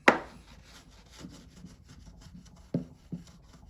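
A rubbing block is scrubbed along painted model railroad rails during track ballasting, making close, soft scrapes with a few sharper knocks as it is pressed and moved, and no voices.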